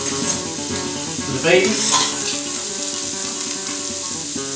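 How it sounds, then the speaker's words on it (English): Onions frying for chilli con carne, a steady bright sizzle in a pan that swells briefly as they are stirred, with a short spoken phrase over it. "Okay, so the onions are in, cooking nicely."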